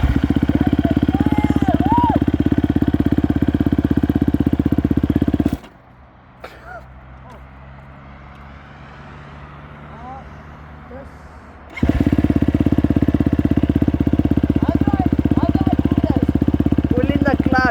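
A motorcycle engine runs at a steady idle, loud and close, cuts out for several seconds, then returns to the same steady idle; people talk over it.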